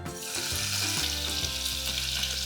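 Garlic frying in a pan for a home-cooked meal, a steady close sizzle with no talk over it.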